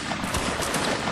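Musket volley fire in the Mount & Blade Warband Napoleonic Wars video game, a brief, loud crackle of overlapping shots packed into about a second.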